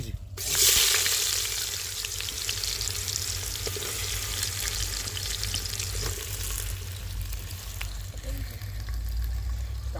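Onions fry in hot oil in a home kitchen, a loud, dense sizzle that surges at first and then holds steady and close, with faint voices underneath.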